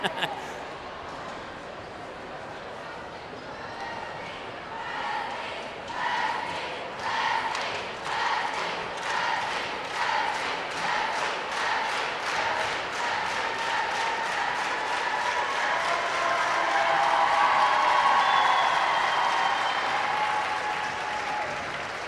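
Crowd at a Pelican Rapids versus Fergus Falls basketball game claps and cheers in sustained, rhythmic waves, building louder toward the end, with voices talking underneath.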